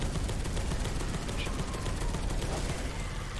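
Sustained rapid turret gunfire in the sci-fi shooter Space Hulk: Deathwing, a dense continuous burst of shots filling the whole stretch, loud and close with no pause.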